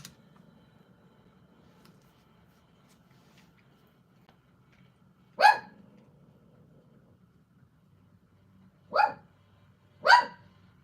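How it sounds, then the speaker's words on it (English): A dog barks in three sharp, shrill yelps, one alone and then two close together, standing out from a faint low background hum. "His bark is like a scream."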